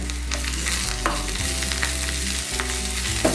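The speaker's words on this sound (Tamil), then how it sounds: "கொத்தமல்லி தழை பொடியை வெட்டி வச்சுருக்கிறேன், அதையும் சேர்த்து லைட்டாக வதக்கிக்கலாம்." Finely chopped coriander leaves are sautéed with golden fried onions in a pan. The sizzle and frying crackle is steady and close, with occasional stirring scrapes and no talk.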